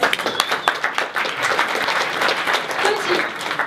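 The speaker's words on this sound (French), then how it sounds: "applaudir Coachy." An audience at a startup pitch event bursts into steady applause, dense clapping filling the room throughout, with a voice speaking briefly over it.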